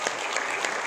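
Brief burst of audience applause at a health talk, dense, steady clapping from a crowd.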